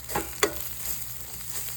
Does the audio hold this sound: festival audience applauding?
no